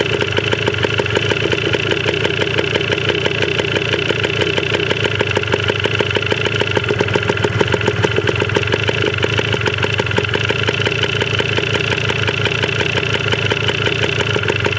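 A Yamaha DT 125 enduro dirt bike engine runs steadily and loudly up close, a rapid, even two-stroke putter with a rattling clatter, holding one pace throughout.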